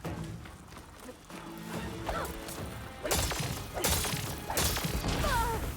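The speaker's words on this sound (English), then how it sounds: "Nice little explosion there." An explosion bursts out during Horizon Forbidden West combat, a loud broadband blast around the three-second mark followed by further crashing impacts and thuds amid busy game sounds.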